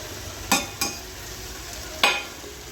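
Spice powders being stirred into frying tomato gojju, a few distinct scraping strokes of a spoon against the pan over a low, steady sizzle.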